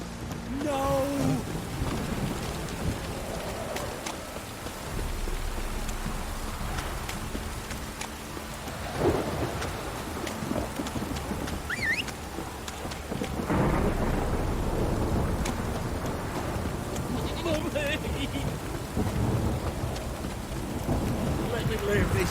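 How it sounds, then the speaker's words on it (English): Heavy rain pours down steadily in a Witcher 3 game scene, a constant loud wash with rumbles of thunder rolling underneath and swelling at times. "Don't stop raining, my arse will rot off."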